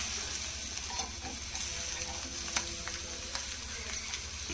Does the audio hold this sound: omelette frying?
yes